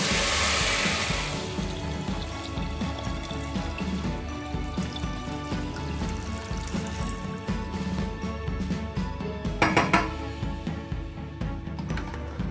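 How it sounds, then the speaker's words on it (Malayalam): Water poured into a pressure cooker pot of payar (green gram) for Kerala kanji payar: a broad, steady watery rush up front fading into continuous sloshing and low liquid movement, with a brief splashy burst near the end. "അപ്പൊ വെള്ളം കൂടി ഇതിലേക്ക് ഒഴിക്കാൻ പോവാ"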